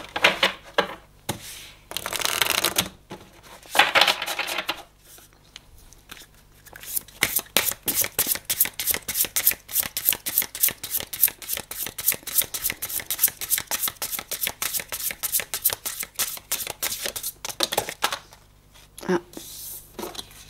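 Oracle cards being shuffled during a card reading, a long run of rapid crisp riffling clicks near the mic after a few heavier handling rustles, with brief pauses between bursts.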